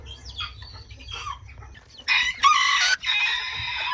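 Mini Garnisé bantam chickens on a small farm, starting with soft low clucking and then loud, close crowing in several strong bursts, one after another.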